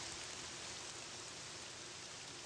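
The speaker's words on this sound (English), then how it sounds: "Is it just me, or is this rain really loud?" Loud rain in a video game, a dense, constant hiss of downpour filling the whole stretch without pause or variation.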